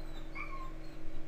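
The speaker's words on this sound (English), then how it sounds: "If you hear my dog in the background" A pet dog whines briefly in the background, a thin high whimper rising and falling once over a steady low room hum.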